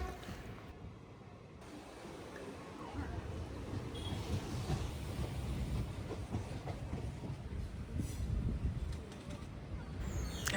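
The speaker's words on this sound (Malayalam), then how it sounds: "നല്ല വേഗതയിലാണ് ട്രെയിൻ പോയിക്കൊണ്ടുവന്നത്" A Mangalore–Shoranur passenger train runs at speed between West Hill and Vellayil toward Kozhikode. A continuous loud rumble and rattling wheel clatter are heard from inside, and faint voices may be mixed in.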